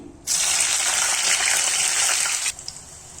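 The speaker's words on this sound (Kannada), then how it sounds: "ಇವಾಗ ಸ್ವಲ್ಪ ಹಸಿ ಮೆಣಸು ಹಾಕೊಳ್ತಾ ಇದ್ದೀನಿ." Green chillies dropped into hot oil for a Kannada mushroom gravy set off a sudden, loud, steady hiss of sizzling that holds for about two seconds and then cuts back to a faint crackle.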